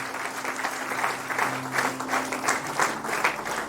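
Congregation at a Kinyarwanda church service clapping to praise God, a brisk, moderately loud round of applause with rhythmic swells, steady throughout and heard alone.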